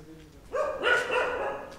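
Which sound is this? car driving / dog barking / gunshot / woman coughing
dog barking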